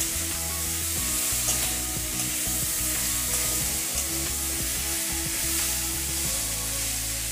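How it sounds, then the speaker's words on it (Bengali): Tomatoes sizzle in hot oil while being cooked down for a ridge gourd and moong dal curry, a steady close frying hiss with occasional stirring scrapes and no voices. "এবারে আমি টমেটো দিয়ে দিলাম একটা, এটাও ভালো করে কষিয়ে নিতে হবে"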